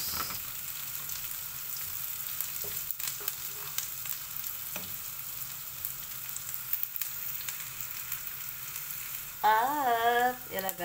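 Onions and garlic frying in a pan, a steady close sizzle running throughout, with a louder burst of stirring or crackle near the end; no talk over it.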